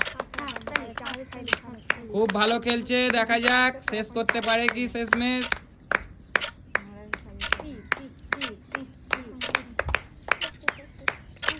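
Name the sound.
audience clapping to cheer on egg-eating contestant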